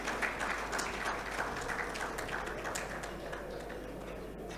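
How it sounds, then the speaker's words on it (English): Audience applause for two veterans at a conference stage ceremony in a main hall, a steady dense wash of clapping sustained evenly throughout, moderately distant with no voices over it. "A round of applause for both the veterans."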